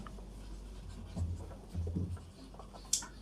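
A pen writes out a calculation on paper with faint, close scratching strokes in short bursts over a low room hum, ending with a sharp tap.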